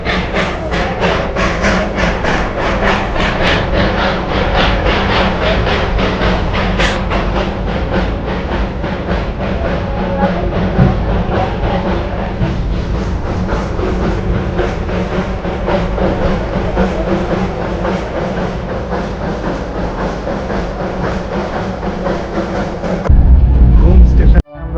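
Darjeeling Himalayan Railway toy train running from Batasia Loop toward Ghum station, a steady loud rumble and clatter of the narrow-gauge train throughout, with people talking over it and a louder burst near the end.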